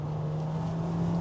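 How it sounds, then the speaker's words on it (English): A compact SUV engine hums close and steady, a smooth low drone under a faint whine inside the cabin, with no clear rise in pitch during the brief moment. "You hear this engine."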